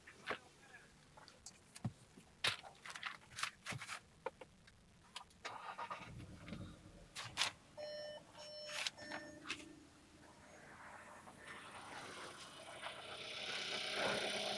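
A Skoda Kushaq SUV's engine is started: a series of clicks and dashboard chimes comes first, then a rising engine whir that settles into a steady hum growing louder toward the end.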